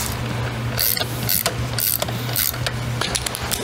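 A ratchet snugs down a bolt on a BMW B58 engine with rapid, close pawl clicks in short repeated bursts over a low steady hum.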